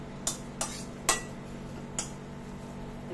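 A spoon knocks against a heavy kadai while a sweet mixture is stirred with the gas turned off, four distinct metallic clinks spaced unevenly over a low, steady room hum.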